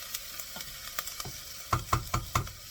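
Onions being sautéed in a pan for green bean soup, with a soft sizzle under a series of distinct spoon knocks and scrapes that grow louder toward the end; no voices.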